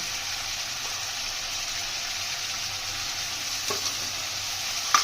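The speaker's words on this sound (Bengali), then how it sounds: "গরম মশলা গুঁড়োটা দিয়ে ভালোভাবে তেল ছাড়া অবধি কষিয়ে নেবো মশলাটা" Ground coriander, cumin, turmeric and garam masala sizzle and get stirred in hot oil for khichuri, a steady close frying hiss with a soft clink of the spoon near the end.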